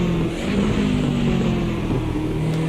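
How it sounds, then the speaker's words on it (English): A BMW 2002 Turbo in Automobilista 2 downshifts while braking into turn 1 at the Nurburgring, engine note rising and falling in short steps, loud and close with no voices. "So a very different sounding BMW engine than you would normally expect"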